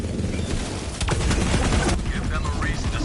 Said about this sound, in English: Those devil riders are celebrating the sheriff's death with damn fireworks.